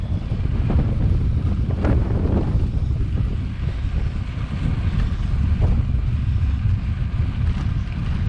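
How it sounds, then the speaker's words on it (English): Strong wind roars and buffets the microphone in a continuous low rumble while cycling across open flatlands near Sand Bay on a 200 km audax ride; no one speaks. "you can tell we're now on the flatlands, so the wind is quite strong"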